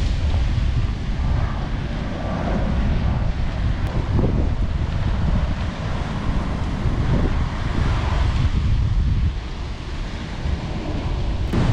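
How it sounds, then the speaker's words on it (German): Strong gusts buffet the microphone on a quiet coastal path on Fuerteventura, with a continuous heavy roar of wind blending into the wash of surf for the whole stretch. "Andererseits ist es sehr windig."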